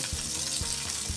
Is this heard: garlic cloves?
yes